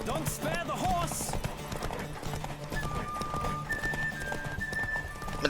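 Rapid hoofbeats from a horse galloping in a Witcher 3 race run without a break, mixed with game music, a brief whinny-like sound and some talk.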